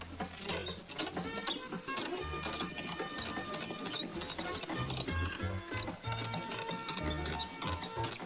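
An old wooden machine is cranked fast by hand, producing a busy rattling, clattering mechanical rhythm with gear-like ticks, moderately loud and close throughout.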